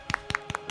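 Three short, sharp claps in an even rhythm, each a separate broadband hit that fades quickly, heard close and alone in a quiet room as a stream sends off a player named Jack.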